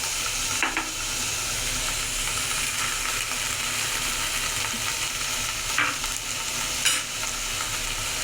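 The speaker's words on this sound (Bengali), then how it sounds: "আদা রসুন বাটা আমি এর মধ্যে দিয়ে দিচ্ছি" Ginger-garlic paste fries in hot oil with a loud, steady sizzle, while a spatula stirs it through the pan with a few scraping strokes close by.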